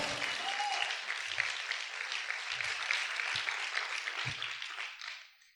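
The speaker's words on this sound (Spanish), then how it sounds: "Aplaude fuerte al Rey. Aplaude fuerte al Señor." Sustained crowd applause at a church service, dense steady clapping from many hands that continues throughout and fades near the end, with a few low thumps underneath.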